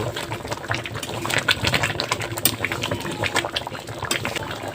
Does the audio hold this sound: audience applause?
no